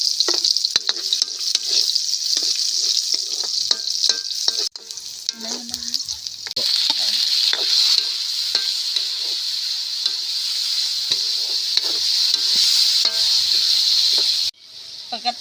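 Onion frying in a pan while bitter melon omelette is being cooked, a loud bright sizzle with frequent spatula scrapes and stirring knocks, briefly quieter after a pause midway and again near the end.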